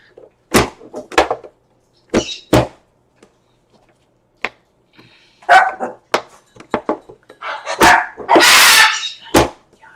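A dog barks in a home kitchen, giving a string of sharp, loud barks close by in irregular bursts, some spaced apart and others in quick clusters, ending with a longer, rougher outburst.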